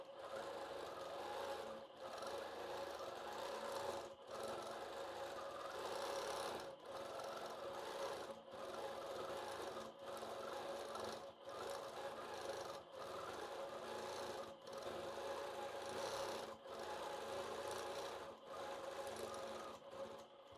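A Little Hummer longarm quilting machine stitches freehand, a close steady whirring rasp that runs in repeated bursts of a second or two, each separated by a brief pause, with no voices over it.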